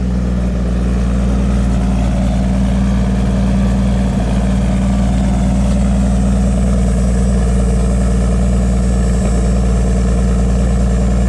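A 1955 Chevrolet Bel Air's 235 cubic-inch inline-six engine idles steadily with a low, even rumble, continuous and fairly loud throughout, with no voices.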